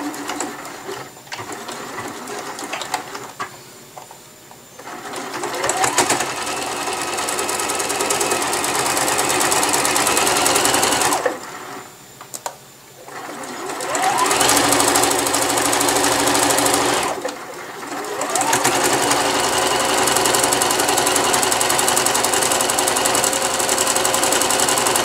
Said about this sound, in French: on enfile pareil dans le bras libre et on va coudre à 2 mm du bord